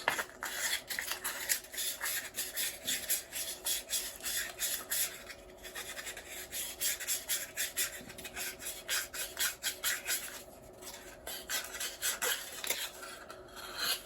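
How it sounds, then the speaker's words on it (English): Sandpaper rasps back and forth against the inside of a small model car tire, a close, rhythmic scratching in quick repeated strokes that pauses briefly now and then. "I've got some sandpaper here. I'm going to take this out and I'm just going to rub this"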